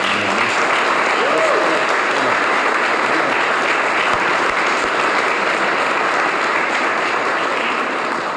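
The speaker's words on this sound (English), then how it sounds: "can we give a round of applause for Luce" Loud, sustained applause from a large audience, steady clapping that fills the space and tapers slightly toward the end.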